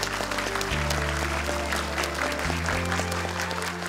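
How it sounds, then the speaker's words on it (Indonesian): Studio audience at a televised Quran memorization competition claps in welcome, steady applause heard over loud sustained music with deep bass tones. "Boleh tepuk tangan untuk Ustadz Kasifel."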